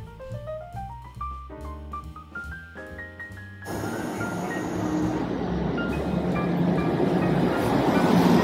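A passenger train hauled by a Siemens Charger locomotive leaving a station in Ann Arbor, Michigan: a rising melodic tone sequence gives way to a loud, steady rumble that grows as the train moves off.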